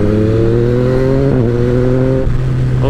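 A Yamaha MT-09 motorcycle on an endurance ride accelerates hard to overtake, its engine loud and close with a steady rising howl that dips briefly on gear changes, no talk.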